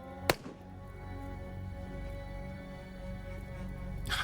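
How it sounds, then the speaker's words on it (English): A sharp gunshot rings out early in the video game Jagged Alliance 3. It is followed by a low, droning background soundtrack, and another brief burst comes at the very end. "A gunshot."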